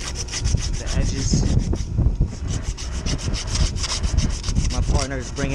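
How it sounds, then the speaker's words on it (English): Abrasive sanding on the cut edges of a copper cooling tower pipe before brazing, rapid rhythmic rasping strokes, close and loud, with a faint voice in the background. "I'm gonna sand down the edges."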